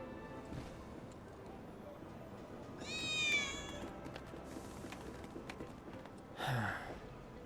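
A cat meows in Final Fantasy VII, one clear rising and falling call midway, with a shorter, brighter cry near the end over a steady game background hum.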